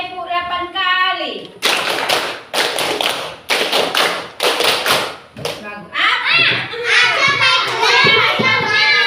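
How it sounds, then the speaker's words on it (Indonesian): Children in a classroom clap together in a quick burst of about eight sharp, loud claps, after which a teacher and the kids go on talking. "Tepuk 8 kali."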